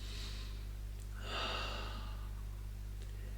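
A person draws one deep breath, a soft airy inhale rising and fading over about a second, close and quiet over a low steady hum.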